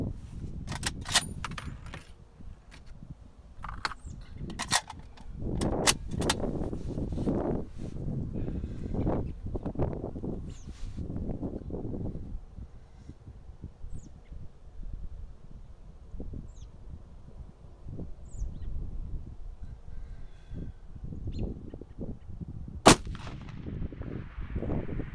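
A .300 Win Mag rifle fires at a target about one mile away: one sharp, loud report cracks out near the twenty-three second mark, following a long stretch of rustling and handling noises outdoors.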